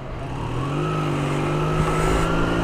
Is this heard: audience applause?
no